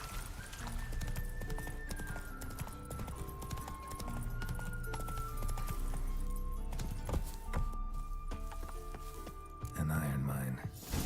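Roach, Geralt's horse in the video game Witcher 3, gallops with steady hoofbeats beneath continuous game music and occasional talk.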